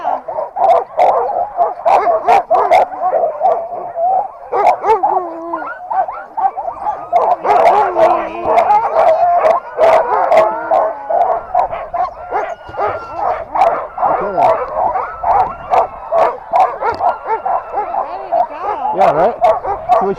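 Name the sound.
Alaska sled dogs barking and howling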